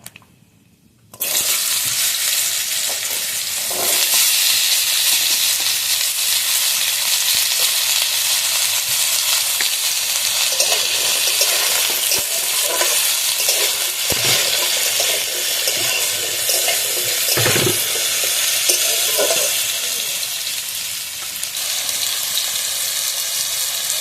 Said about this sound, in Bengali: এবার আমি আলুটা দিয়ে দেবো।